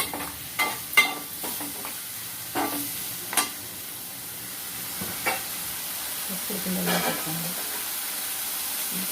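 Tomatoes frying in a pan: a steady close hiss of sizzling, with a few scraping stirs of a spoon early on and quieter bubbling later.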